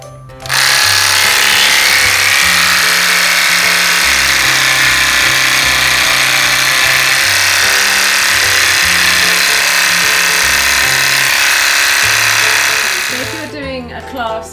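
Electric clippers trimming a horse's coat during show grooming, a loud steady buzz running almost nonstop for about thirteen seconds with slight shifts in tone as the blades move over the hair, then cutting off near the end.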